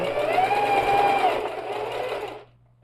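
A sewing machine runs a thick seam along a backpack lining with straps and flap, a close, steady motor whir with a sustained tone that fades and stops near the end, no voices.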